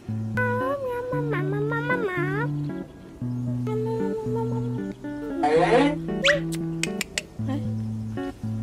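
A voice imitates a cat, giving several drawn-out meows over a steady, bouncy background tune, with a brief scratchy burst midway.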